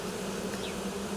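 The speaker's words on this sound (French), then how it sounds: "l'abeille le derrière levé, elle bat des ailes" A honeybee swarm settled on the ground, a dense, continuous buzz of many wings close by, with bees fanning, steady and fairly loud throughout the short moment.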